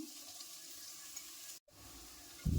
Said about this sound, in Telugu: కొబ్బరి తురుము వేసుకున్నాం కదా కాసేపు ఫ్రై చేసుకోవాలండి